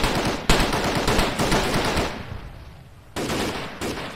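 Rapid automatic gunfire in the video game Arma 3, loud and close, sustained bursts with a brief lull near the end before firing resumes.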